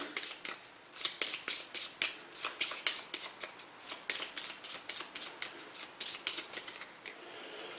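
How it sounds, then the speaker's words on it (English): Playing cards are shuffled during a tabletop card game, a quiet close run of quick riffling flutters and soft slaps repeating steadily. "so we just do 2 cards. Shuffle these guys in."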